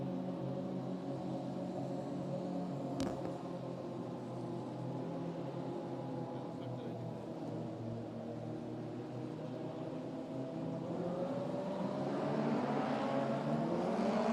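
Indoor race cars circle the track at Boardwalk Hall in Atlantic City during qualifying. Their engines drone and whine in a continuous reverberant wash, and the revs rise toward the end as a car draws nearer.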